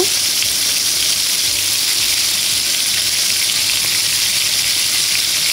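Loud, continuous sizzling of shrimp frying in hot oil in a wok, a steady crackling hiss with no talking.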